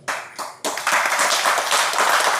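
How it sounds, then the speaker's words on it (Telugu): An audience clapping during a devotional discourse: a short burst of hands, a brief break, then denser sustained applause from many people nearby. "చప్పట్లు ఎందుకు కొడతారు అవివేకం కాకపోతే?"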